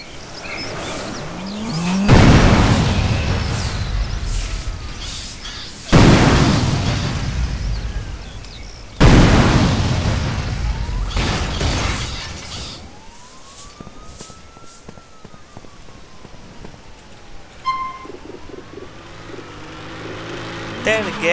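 Grenade explosions in GTA San Andreas with an HD weapons mod: three loud booming blasts a few seconds apart, each with a long rumbling tail, followed by a distant wailing siren.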